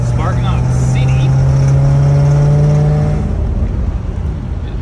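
Engine of a 1964 Rambler Ambassador Cross Country wagon pulling hard under acceleration while driving, a loud steady drone close by that rises in pitch and then eases off.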